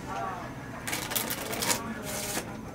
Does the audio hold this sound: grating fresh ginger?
no